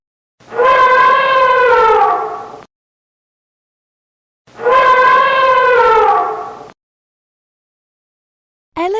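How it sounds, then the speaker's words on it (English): Elephant trumpeting in two long, loud blasts with a pause between them, each a wavering, harmonic-rich call lasting about two seconds, and the start of a third blast cut off at the very end. "Elephant."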